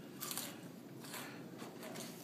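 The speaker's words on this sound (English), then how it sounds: "So crunchy." Close, crisp crunching from someone chewing Cheetos, with a few sharp bites standing out among steady mouth noises and no talking.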